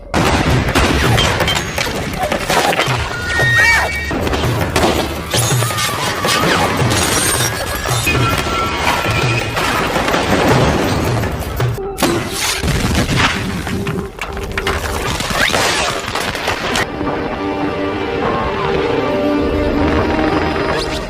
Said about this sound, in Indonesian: Akhirnya pihak musuh menembaki Joe tanpa henti.